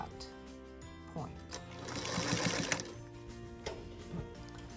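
A sewing machine stitches scalloped binding onto a quilt in a short run of rapid mechanical whirring that swells and then stops, with fabric handling noises and a humming background around it.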